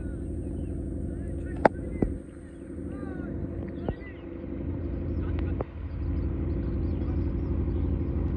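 A river launch's engine gives a steady, low, throbbing drone close by on the water, with people talking over it and a few sharp knocks.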